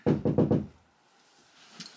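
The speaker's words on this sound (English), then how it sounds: "Let me just knock on the door." Four quick, loud knocks on a door come in a rapid cluster near the microphone, followed by quiet room tone with a faint small noise at the end.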